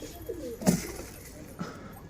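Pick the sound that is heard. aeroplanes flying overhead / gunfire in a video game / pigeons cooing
pigeons cooing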